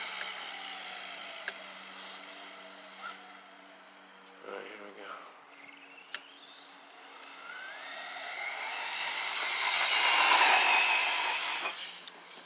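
RC truck with a 3600kv Surpass Hobby motor on a speed run, its high whine rising in pitch as it accelerates and grows louder, peaking near the end as it passes close, over outdoor background noise.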